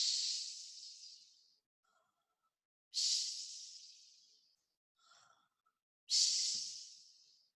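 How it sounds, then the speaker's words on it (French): A giant snoring loudly as he sleeps at a table, three long, breathy inhaled snores at steady intervals with a faint snort between them. "il ne tarda pas à s'endormir et se mit à ronfler bruyamment"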